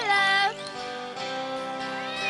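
A cartoon cat gives a couple of clear, high, sliding meows, close and distinct, with a light musical background underneath.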